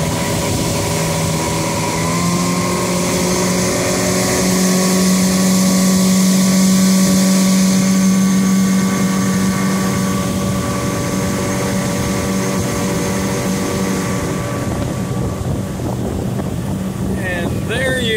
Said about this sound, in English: show you the motor running under power